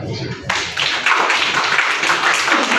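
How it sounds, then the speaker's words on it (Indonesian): Applause from an audience at the opening ceremony of a PPL training event breaks out after a short lead-in and swells into steady, dense clapping that fills the rest of the moment. "Tepuk tangan."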